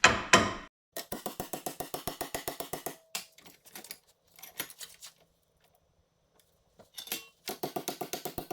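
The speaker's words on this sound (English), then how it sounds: "I'm going to keep a little bit of pressure on the top of this too as I hammer." Rapid bursts of sharp metallic taps from hammering sheet metal held in a vise for rust repair on a 1986 Pontiac Parisienne door jamb, close by, in quick rhythmic runs separated by short pauses and a stretch of near silence.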